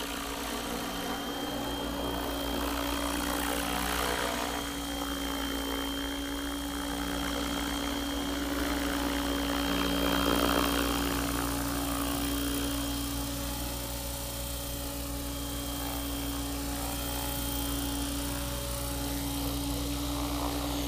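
A Logo 550SE radio-controlled helicopter flying at La Toussuire, heard as a steady mechanical whine and hum that holds a constant pitch, with slight swells in loudness. No voices.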